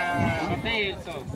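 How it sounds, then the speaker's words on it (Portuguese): A castrated goat bleats at a busy livestock fair in Tabira, Pernambuco, its wavering, harmonic cries rising over the steady chatter of nearby people. "Tá com esse lindo bode aí, bode um capado aí, ó."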